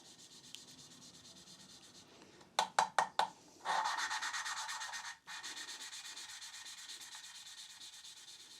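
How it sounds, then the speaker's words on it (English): A valve being lapped into a Mini Cooper cylinder head with fine grinding paste: a few quick rhythmic scrubbing strokes, then a longer smooth, hissing grind that briefly pauses and resumes, quiet and close. "with the finer grinding paste that it gets even quieter after grinding away"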